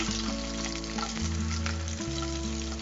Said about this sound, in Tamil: கொஞ்சம் கடுகு, கொஞ்சம் வெங்காயம் போடலாம்.